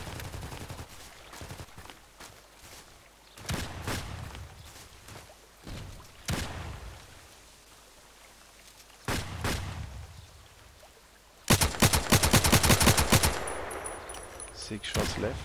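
Gunfire in the shooter game Contract Wars: sharp single shots spaced irregularly, then a dense, loud burst of rapid fire near the end, with faint talk in places.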